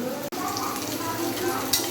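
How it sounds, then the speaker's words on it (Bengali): Steady sizzling of potatoes frying with tempering spices in a hot pan for a cabbage dish, with a brief scrape of stirring, close and continuous. "বাঁধাকপির আলু ফোড়ন দিয়ে আলুটা ভাজা বসিয়ে দিয়েছি।"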